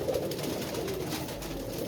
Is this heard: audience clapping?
no